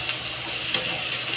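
Onion, tomato and garlic sautéing in a pan, giving a steady, close hiss of sizzling with light stirring throughout, no voices.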